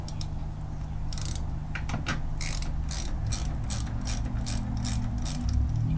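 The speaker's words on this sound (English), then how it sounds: "Now to get this off, I'm going to undo the gear lever from here." A ratchet clicks in quick bursts while undoing the gear lever bolt on a CFmoto 450MT motorcycle, close and fairly clear over a low steady background hum.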